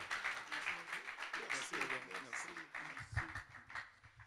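A church congregation applauds and cheers to welcome a pastor, with clapping running steadily under voices and a low thump near the end.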